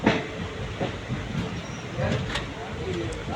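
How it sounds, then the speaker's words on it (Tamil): Palakkad Express pulling out of Karur station, a steady low rumble of rail cars with faint clacks and brief hiss throughout, voices and platform chatter mixed in. "இப்போ தான் கரெக்டாக கிளம்புது வண்டி"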